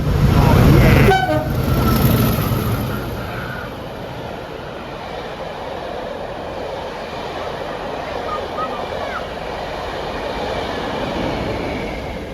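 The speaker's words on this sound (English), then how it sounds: "We were very excited to see Class 40, 40013 and Dania on a rail tour for LSL." A Class 40 diesel locomotive leads a rail tour train past the lineside, sounding a loud horn blast at the start before the rumble of passing wagons carries on more quietly.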